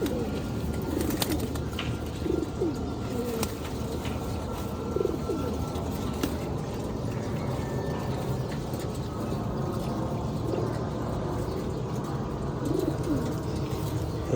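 Several pigeons coo softly and steadily nearby while drinking vitamin water, their low murmuring calls continuous under a faint background hiss, with an occasional chirp.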